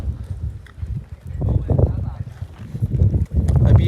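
Horses' hooves clop irregularly on a mountain path near Ratti Gali in Kashmir, with muffled footsteps and wind over continuous people talking nearby.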